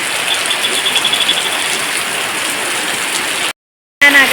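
Heavy rain pouring down outside a house, a dense, steady hiss close by, briefly cut to silence near the end before resuming.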